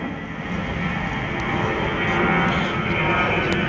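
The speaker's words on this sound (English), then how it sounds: "Plane overhead." An airplane passes overhead above a cherry blossom basin in Washington DC, a steady broad roar holding at an even, fairly loud level throughout with no talk.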